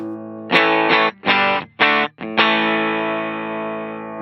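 Electric guitar through a JHS Loud is More amp profile on a ToneX, clean setting: a few loud strummed chords in quick bursts, then one final chord left ringing and slowly decaying, no talking.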